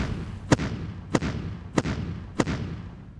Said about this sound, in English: So it's here where we bomb the bejesus. That's the howitzers in the rear.